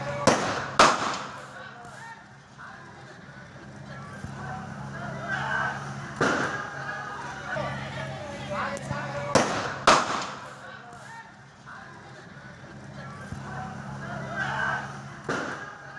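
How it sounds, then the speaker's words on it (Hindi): Repeated gunshots ring out in a street clash in Bengal, several sharp loud cracks spaced a few seconds apart, over a bed of continuous crowd noise and voices. "उन लोगों ने एक के बाद एक कई गोलियां दागी।"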